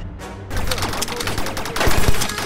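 Rapid bursts of game gunfire in Rec Room, a VR multiplayer shooter, crackle in dense overlapping volleys, loud and close, with several weapons firing at once and no voices over them.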